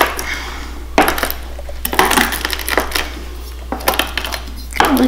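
Pistachios are cracked with a knife in a kitchen while a carrot ribbon salad is made: a series of sharp, loud cracks and clicks at irregular intervals, with shell bits rattling against a hard surface, and no voices.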